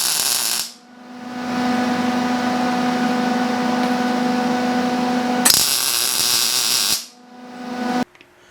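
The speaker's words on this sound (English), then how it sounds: "let's get this welded into place" Brake parts on a Predator 212 go kart are welded in a few sustained, loud buzzing bursts, each starting and stopping abruptly, with short pauses between them.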